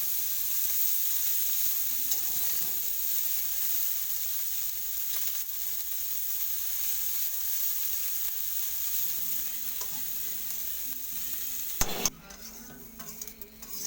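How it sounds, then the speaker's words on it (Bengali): Fish frying in mustard oil, a steady close sizzle that runs throughout, with a sharp clatter of a utensil near the end. "মাছগুলো আমার ভাজা হয়ে গেছে"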